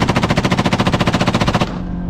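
A machine gun fires from a Razor side-by-side vehicle in one long rapid burst of about twenty loud, evenly spaced shots, then stops abruptly with an engine idling beneath.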